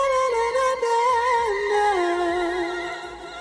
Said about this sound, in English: So the infinity mode makes this high pitch delay effect in your ears